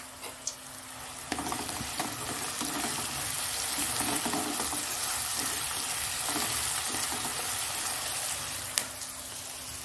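Cumin seeds sizzling in hot oil in a home kitchen, a steady loud crackling fry with occasional taps of a spoon against the pan, no talking.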